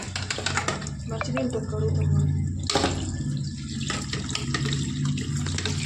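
Water runs steadily from a kitchen tap during washing before cooking chicken, a close, continuous splashing hiss with occasional clinks and a sharp knock partway through.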